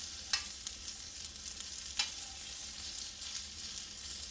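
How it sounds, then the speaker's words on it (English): Chicken sizzling on a Blackstone griddle, a steady, soft frying hiss with a few sharper crackles and spatters standing out over the low, constant sizzle. "just let the grill get the char on it"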